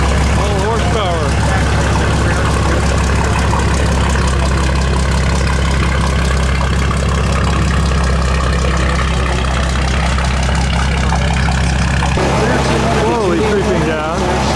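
A vintage chain-drive car engine runs with a loud, steady low throb and rhythmic mechanical clatter at Monterey Car Week, continuous throughout, while someone talks over it.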